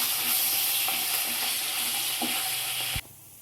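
Spices with ginger pieces, green chilli and a pinch of asafoetida frying in a pan for poha, a steady close sizzle with occasional stirring clicks, cutting off abruptly near the end, no voices.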